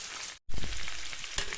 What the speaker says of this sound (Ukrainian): Зараз гарно пожарю